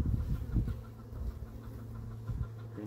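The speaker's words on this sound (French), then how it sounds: "Une poule qui panique parce que j'ai un renard qui se promène." A hen clucking in agitation, panicked by a fox roaming nearby, with repeated low, choppy bursts that come close and fairly loud over a steady low background.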